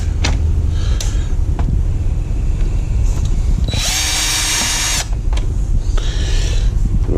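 Power tool working rusted screws out of an Atari game console, a loud close whine with bursts of high-pitched drilling and grinding, briefly surging mid-way.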